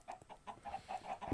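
A chicken in the video game Minecraft clucks in a quick run of short, evenly spaced, soft bursts, with no voices.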